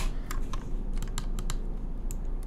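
Computer keys clicked in a quick, uneven run of separate taps while working in Blender, close and clear over a steady low background hum, with no talking.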